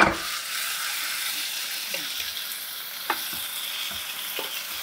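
Small washed fish coated in salt, chilli, ginger paste and masala are stirred in a hot pan, giving a steady bright sizzle with a few scraping strokes of the spoon, close and continuous.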